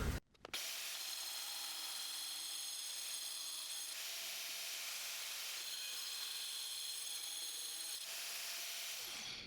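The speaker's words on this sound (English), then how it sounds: "Next I'll see what a plunge cut's like into the tile." An angle grinder fitted to a sliding tile cutter plunges into ceramic tile, giving a steady, loud, high-pitched whine that holds for about nine seconds with no talking.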